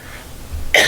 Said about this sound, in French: je vais certainement tousser de temps en temps